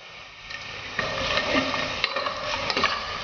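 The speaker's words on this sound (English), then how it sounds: "here goes cinnamon, anise seed, cardamom, javitri" Whole spices (cinnamon, anise seed, cardamom, javitri and cloves) frying in hot oil in a pan for a Mangalorean vegetarian methi pulav, steady close sizzle with stirring scrapes and clicks throughout.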